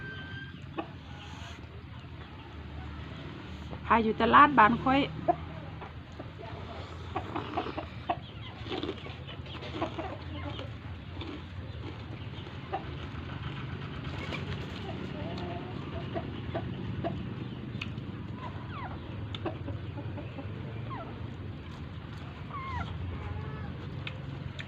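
Chickens cluck among ducks around a rural house, scattered calls rising in a busier burst early on, then continuing as steady low background activity while a person talks over them.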